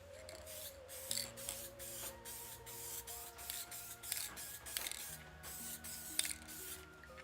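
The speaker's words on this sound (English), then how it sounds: "Little wet spray here." Wet spray misted onto bones in rapid repeated pumps, each a short hissing burst in a steady rhythm, close and fairly quiet over a faint tonal background.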